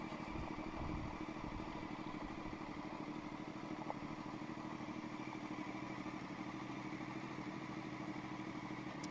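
A 2008 BMW K1200S motorcycle engine idles steadily and close by for the whole stretch, with a constant low rumble and a brief faint click partway through.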